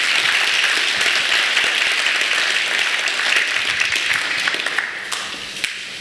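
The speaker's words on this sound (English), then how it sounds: "give them a nice round of applause" A seminar audience applauds a family of national award-winning cattle producers, a dense, steady wash of many clapping hands that holds loud for several seconds before tapering slightly at the end.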